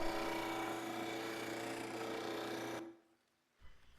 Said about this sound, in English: round the ends on the disc sander